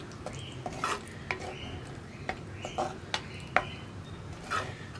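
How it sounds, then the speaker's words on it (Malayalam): A spoon stirring curd into apple pachadi in a bowl, giving soft scrapes and light clinks at an uneven pace, fairly close and quiet over a low background hum. "അപ്പോൾ ഞാൻ തൈരൊക്കെ ചേർത്ത് മിക്സ് ചെയ്തിട്ടുണ്ട്"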